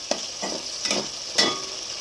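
Fish frying in a pan as it is stirred and cooked down for kosha, with a steady sizzle and about four soft scraping stirs spaced through the clip, close and fairly quiet, no talk.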